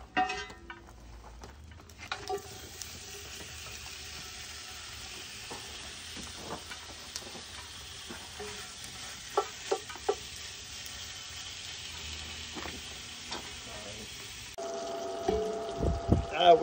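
Bacon and smoked sausage sizzle and fry steadily while browning in a pot, with occasional stirring clatter and a louder burst near the end.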